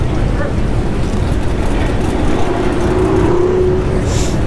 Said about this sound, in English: That was a Hemi swap Jeep.